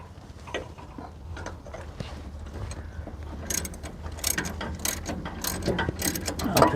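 Ratchet clicking while bolting parts on a 1956 Ford F500 truck during brake work, close up, with rapid irregular bursts of clicks that grow louder toward the end.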